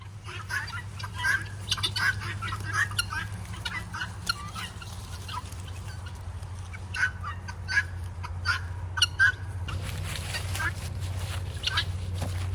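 Domestic guinea fowl on a farm give repeated short, sharp calls in scattered bursts throughout, moderately near, over a steady low rumble, with a shift in background noise near the end.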